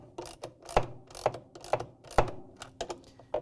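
Bolts being tightened on a Frigidaire/Electrolux washer during a spin bearing repair make a string of sharp, close mechanical clicks in an uneven rhythm, with no talking.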